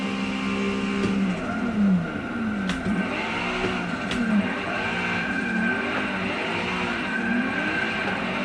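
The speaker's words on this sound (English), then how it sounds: "So this car is a Mazda RX-7 FC3S. It's got the 2J motor in it, about 400 horsepower." A Mazda RX-7 FC3S drift car with a 2J engine of about 400 horsepower, in a drifting video game simulator, revs and wails through repeated rising and falling engine sweeps with tire squeal, loud and continuous.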